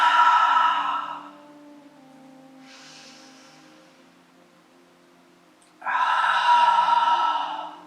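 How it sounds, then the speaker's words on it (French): Two loud breathy exhalations through the mouth during a yoga session, one at the start and one near the end, with a faint softer breath between them and no talking. "On expire par la bouche."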